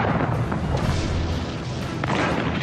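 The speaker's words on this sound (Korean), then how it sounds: "1900개의 대포가 포격을 시작했습니다." A massive World War II artillery bombardment in the Ardennes as 1900 guns open fire: a continuous dense roar of overlapping booms and rumbling thuds with no pauses, loud and distant-sounding.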